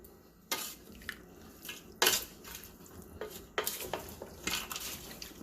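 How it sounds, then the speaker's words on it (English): Seasoned chicken and gravy are stirred in a pot with a spoon, giving a scatter of sharp clinks and scrapes against the pot in an irregular rhythm, close and fairly loud, with no talking. "I'm going to give this a good mix"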